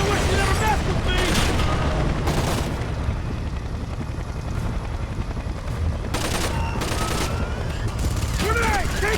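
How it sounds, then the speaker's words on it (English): In the video game Splinter Cell Conviction, gunfire rattles in repeated bursts over a low rumbling drone. Sharp blasts come near the start and again later, and voices speak in the mix. "Request permission to start shooting, sir!"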